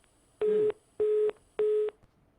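Three evenly spaced electronic beeps of a steady tone sound in a row, like a telephone line's disconnected signal, with nothing else around them.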